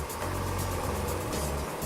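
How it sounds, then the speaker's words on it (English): Vibration test table with a motor shaking it at very low frequency while checking for harmonic imbalances, giving a deep, steady droning rumble that holds evenly throughout. "What you hear is the table vibrating at a very low frequency."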